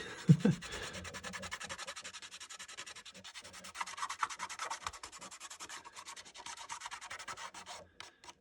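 A finger rubs dried liquid masking off the painted surface of a 1/72 scale Revell Star Wars Razor Crest model, giving a steady, close scrubbing friction that runs continuously with small bursts of stronger strokes.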